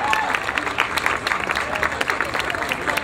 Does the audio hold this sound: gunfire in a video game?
no